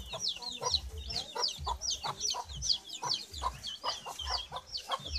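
Several backyard chickens cluck close by at feeding time in the rain ahead of a typhoon, their calls coming in quick rhythmic bursts over a low background rumble.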